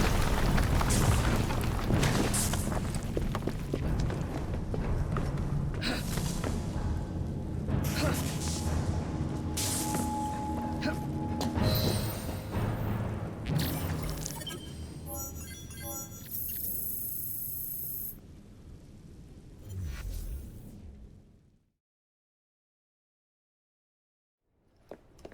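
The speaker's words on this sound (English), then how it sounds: "What was that explosion?" An explosion in Assassin's Creed Syndicate, where a Piece of Eden detonates inside a lab, arrives as heavy booms and crashing debris amid game music and effects, building for twenty seconds before cutting to silence.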